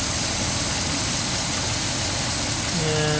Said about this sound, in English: you can hear the engine changing, RPM changing